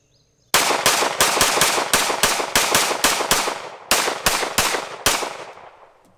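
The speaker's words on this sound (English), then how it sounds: "Just shooting some Tula" A pistol fires Tula 115 grain ammunition in a rapid string of loud, sharp shots, around fifteen in about six seconds with two brief pauses, each crack close and ringing out with no talk.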